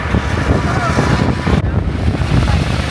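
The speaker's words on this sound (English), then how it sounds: "Well, it's so windy." Strong wind buffeting the microphone during an off-road 4WD drive, a loud, constant roaring rumble with gusty low thumps that fills the whole stretch.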